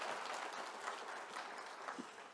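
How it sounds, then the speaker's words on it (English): An audience at a summit session gives a round of applause, faint and steady, heard from a distance throughout the short stretch. "So one more round of applause."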